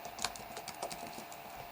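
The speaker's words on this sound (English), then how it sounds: "I'm going to give it a file name by clicking on this field and typing it in." Quick bursts of typing on a computer keyboard as a file name is entered in Paint 3D, with light, close clicking keystrokes in an uneven rhythm and no talking.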